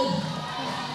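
Spectators at the 2022 Queensland Bouldering Championships cheer and shout encouragement at a climber, a brief burst of crowd noise with voices rising over the hall.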